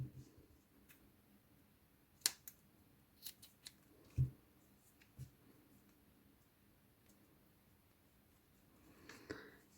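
Scissors snip through crochet yarn threads while finishing a kawaii biscuit keychain, giving a few faint, sharp clicks scattered over a quiet background.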